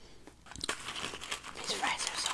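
Close, crisp crinkling and crunching of McDonald's fries being eaten, with wrapper rustle and short bites running through the whole stretch, moderately loud and close.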